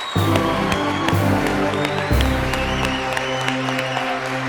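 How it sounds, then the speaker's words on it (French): Applause and cheering ring out over a loud backing music bed, the crowd noise spread evenly across a few seconds. "Ça mérite des acclamations."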